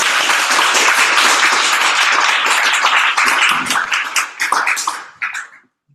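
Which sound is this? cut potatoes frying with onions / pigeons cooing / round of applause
round of applause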